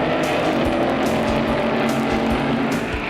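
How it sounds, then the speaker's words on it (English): A supercharged gas dragster roars down a 1960s NHRA U.S. Nationals drag strip, a loud, dense, continuous engine blast with no pauses, heard at a distance. "The supercharged gas dragster, Greg Gibson, White Plains, New York"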